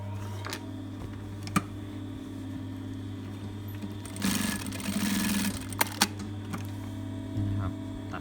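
Computerized industrial sewing machine, seen during blade replacement for a faulty thread cutter, runs with a steady loud motor hum and a burst of rapid stitching in the middle, plus a few sharp clicks.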